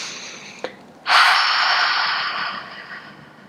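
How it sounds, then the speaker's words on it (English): A deep breath during kids' yoga tree pose, a brief sniff followed by a long, loud, airy exhale that slowly fades, heard up close with no talking. "Take a deep breath."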